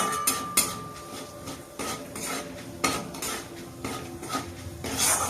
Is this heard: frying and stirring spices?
yes